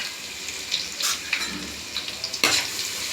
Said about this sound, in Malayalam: ഇനി വെളുത്തുള്ളി ചതച്ചത് ഇടാം